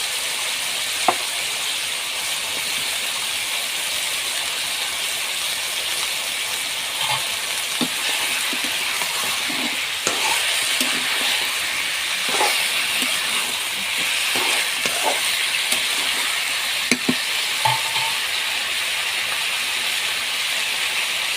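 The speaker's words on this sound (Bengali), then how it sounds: "মাংসের সাথে আমি আলুগুলো দিয়ে দিব। আলুগুলো একটু ভেজে নেব।" Potatoes frying with chicken pieces for biryani, a steady hissing sizzle with occasional clinks and scrapes of a utensil against the pan, no voices.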